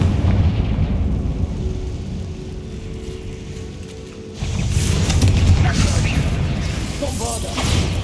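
Bombarda spell blast in Hogwarts Legacy, a deep booming explosion that erupts midway after a quieter rumbling stretch, followed by crackling debris and whooshing, loud and full.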